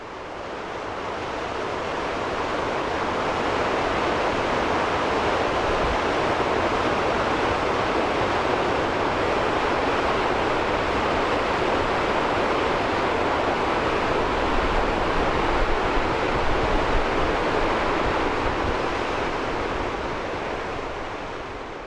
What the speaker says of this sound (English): You see how fast that water's just rushing through there.